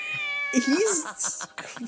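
A cat meows in the video game Corpse Party: Book of Shadows, a rising then falling call under a steady tonal music drone, followed by brighter, busier game sound.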